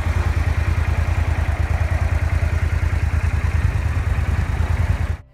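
V-twin motorcycle engine and exhaust running at a steady idle: a loud, close, deep pulsing beat that lopes evenly for about five seconds, then cuts off abruptly, with no talking.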